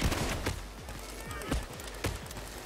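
Several sharp gunshots crack in an irregular burst of Payday 2 gunfire on the Aftershock heist, with faint talk in the background.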